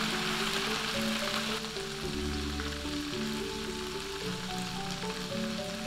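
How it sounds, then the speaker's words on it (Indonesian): Washed anchovies frying in hot oil over low heat, a continuous soft crackling sizzle at moderate level, heard alone without voices. "Setelah minyak panas, kita masukkan ikan teri yang telah dicuci."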